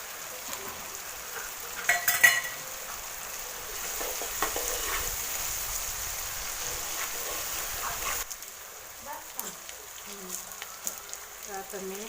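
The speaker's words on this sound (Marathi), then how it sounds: "आपला कांदा ते तळून झाले मी टाकला तेजपत्ता हे कढीपत्ता आणि हे आलं लसणाची पेस्ट" Onion, bay leaf, curry leaves and ginger-garlic paste sizzle in hot oil in a pan, a steady hiss broken by a few louder stirring crackles, with a voice faintly in the background.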